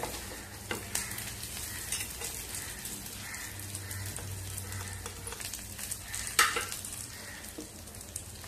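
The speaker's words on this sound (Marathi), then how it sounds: "सगळं छान भाजून घेऊया" Chana dal, urad dal, rice, pepper, coriander seeds, curry leaves, garlic and chillies dry roast in a pan for sambar masala, giving a soft crackle and gritty scraping stirs, near but fairly quiet, with no talking.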